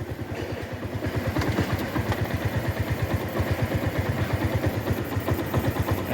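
A tiny cruiser's small engine idling in gear, a steady, close, low chugging pulse with a fast even beat that holds throughout.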